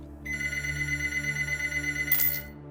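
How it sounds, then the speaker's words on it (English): During an outgoing call, a telephone rings through the earpiece in a steady electronic trill that starts after a brief pause and runs unbroken, ending in a louder burst of noise. "He made a phone call."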